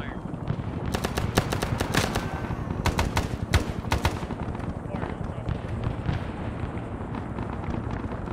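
Heavy gunfire in ARMA 3's Vietnam War setting, with dense bursts of automatic fire and sharp cracks clustered in the first half, then thinning into a rumbling battlefield din with distant explosions.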